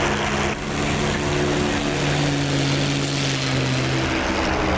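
A propeller plane's engine in the DCS flight simulator game, a loud, continuous droning hum with a steady low tone that holds for several seconds without letting up.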